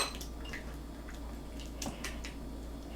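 Coconut oil and vanilla or caramel extract are stirred in a bowl for keto cookie bars: faint, scattered utensil clinks and soft scrapes over a low steady hum.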